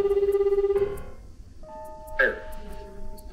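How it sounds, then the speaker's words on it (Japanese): A phone ringtone plays a steady, pulsing electronic melody, then stops. Brief electronic tones follow against a murmur of voices in the room. "うちも今電話かかってきたんだけど。"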